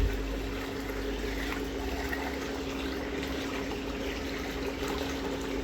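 A crayfish tank filter pumps and trickles water nearby in a steady, continuous wash, with a low motor hum beneath the gentle flow and no talking.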